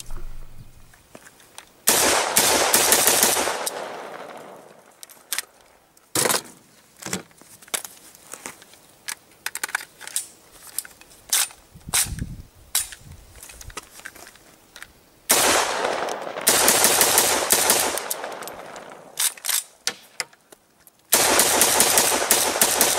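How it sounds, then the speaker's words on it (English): An AK-47 rifle stuffed with Twinkies fires outdoors in long loud automatic bursts and separate single shots, with short gaps between the bursts. "we are trying to determine if the AK-47 will function if you stuff it full of Twinkies"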